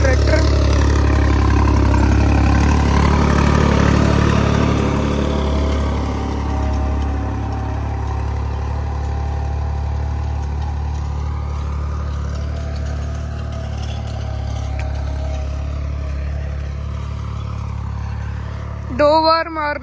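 A tractor engine runs steadily on a farm field, a loud, continuous low rumble that holds through the whole stretch with slight shifts in pitch, and a brief burst of other noise near the end.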